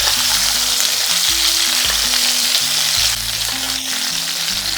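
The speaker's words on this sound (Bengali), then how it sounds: "প্রথমে একটু হাই ফ্লেমে রেখে এটাকে ভাজা ভাজা করে নেব।" Pointed gourd fries over a high flame in a pan, giving a loud, steady, hissing sizzle up close that eases slightly near the end, with no voices.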